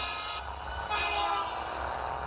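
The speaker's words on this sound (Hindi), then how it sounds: "एक जोरदार आवाज आई जो उनके बगल से गुजरती हुई ट्रक के हॉर्न की थी।" A truck horn blares twice in short bursts on a highway, a brief blast then a longer one, over a steady engine rumble close by.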